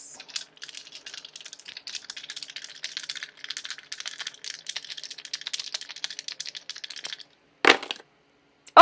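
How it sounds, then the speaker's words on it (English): Dice are shaken and rattled in a hand or cup for several seconds, a dense clicking clatter, then tumble out in a short sharp burst, close and alone. "let's go ahead and throw these dice of resonance"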